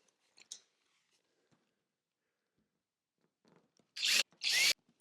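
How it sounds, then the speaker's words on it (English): A power drill bores holes in a 2019 GMC Savana van roof for a Maxx Air fan install. After near silence and a few faint clicks, two loud, close bursts of drilling follow one another. "So I'm going to drill a couple holes"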